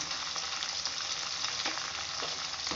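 Prawns sautéing in a pan with salt and turmeric for a Tamil prawn curry, giving off a steady, close sizzle and crackle of frying that runs evenly throughout, with no talk over it.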